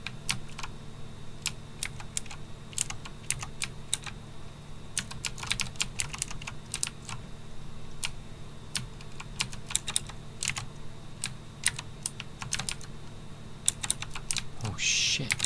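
Computer keyboard keys, including WASD, are pressed throughout a game: a steady stream of quick, close clicks and taps for the whole stretch, with occasional faint talk.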